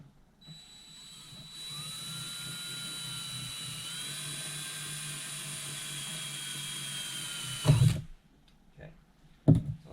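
A power drill whirs with a steady high-pitched whine for about six seconds, then stops; a couple of clunks follow afterward. Drilling into a 1973 Kawasaki G5 motorbike part after center punching, during crank seal replacement.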